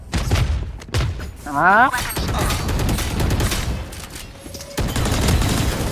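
Missiles launching and detonating in a video game: a rapid string of loud booms and thuds, a sweeping whoosh and a burst of gunfire-like cracks, with a voice talking over the action.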